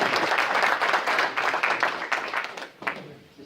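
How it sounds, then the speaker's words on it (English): A crowd claps steadily for a few seconds, dense and lively, tapering off toward the end. "Let's give him a round of applause."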